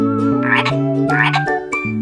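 A cartoon frog croaks in a short, musical children's counting piece, with a few bright, voice-like croaks over a steady backing melody.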